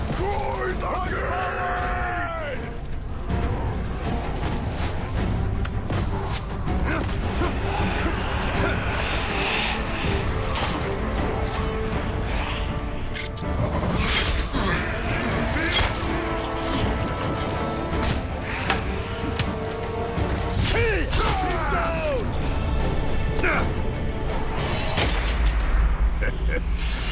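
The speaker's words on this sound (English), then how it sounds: "Destroy the gate!" A gate is smashed amid battle in Middle-earth: Shadow of War, with heavy crashes and booms over groaning creatures, shouts and dense combat noise, and voices talking throughout.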